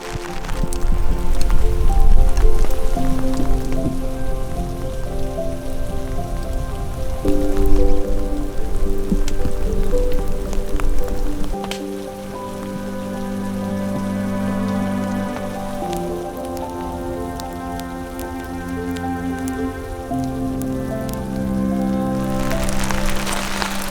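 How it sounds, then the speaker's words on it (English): Rain falling steadily on a surface in rugged Oregon canyon country after an afternoon of rainfall, a dense constant patter close by, with some heavier low rumbling in the first half. "Now that it's been raining all afternoon"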